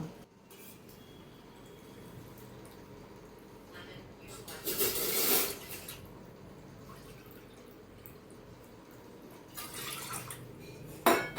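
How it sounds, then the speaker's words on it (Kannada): Water is poured into a pot for making ragi mudde, two measures to one of finger-millet flour, giving a brief splashing burst amid faint kitchen clinks and drips. "ನಾನು ನಿಮಗೆ ನೀರು ಹಾಕ್ಬಿಟ್ಟು ತೋರಿಸ್ತೀನಿ"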